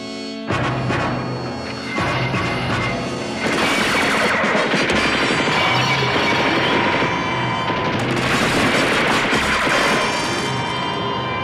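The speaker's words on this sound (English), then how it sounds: "Reporting multiple gunshots, vicinity 700 blocks South Remington." Rapid bursts of gunfire crack repeatedly through the whole stretch, dense overlapping shots like automatic weapons, loud and continuous with no talking.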